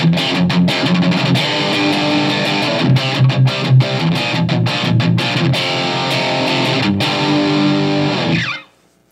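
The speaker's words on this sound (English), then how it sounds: "Let's see if we pull the coil tap, what the same position would sound like." A Charvel Pro Mod San Dimas Style 1 electric guitar with humbuckers and its coil tap pulled plays distorted, driving riffs with choppy muted stops, loud and close, before cutting out abruptly near the end.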